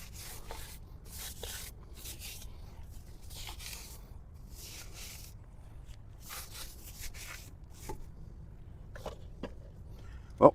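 A brush scrubs between the spokes of a car's rear wheel during detailing. Quiet, close, intermittent swishing bursts of rubbing come with short pauses between them, and a sharper knock sounds at the end.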